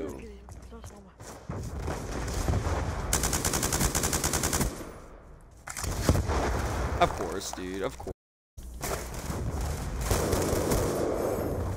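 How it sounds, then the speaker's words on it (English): An MK48 light machine gun firing in Black Ops 2, with rapid bursts of automatic gunfire and other shots in the match, loud and close, with people talking over the shooting and a brief gap of silence near the end. "I'm on the LMGs. I'm on MK48 now."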